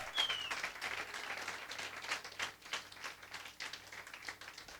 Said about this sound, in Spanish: Vamos, si va a aplaudir, aplauda a Dios.